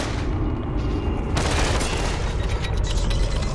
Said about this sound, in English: No, I'm getting shot at.